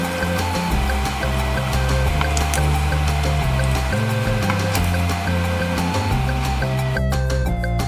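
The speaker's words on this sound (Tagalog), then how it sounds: "iprito ang isda sa mainit na mantika" Fish frying in hot oil in a pan while cooking Ilocano dinengdeng, a steady loud sizzle with dense crackling and popping throughout, heard alone with no talk.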